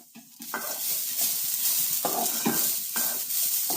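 Grated coconut sizzles in a frying pan over low heat with bay leaf and fennel seeds, and a spatula stirs and scrapes it in short repeated strokes over a steady soft hiss.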